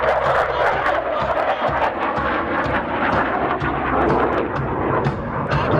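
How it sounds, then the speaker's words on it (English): Aerobatic airplane flying a triple aileron roll at an air show at Iwakuni Friendship Day, a loud continuous engine roar and rushing noise with shifting intensity, under crowd ambience. "from your left, Major Smitty in the triple aileron roll"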